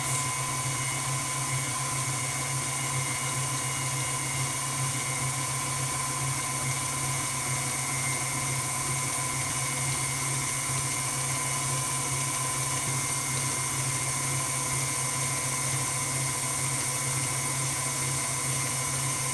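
Stand mixer running on speed 4 with the bowl locked, kneading wet, sticky ciabatta dough: a steady, unbroken motor whine with constant hum throughout, close and fairly loud, no talking.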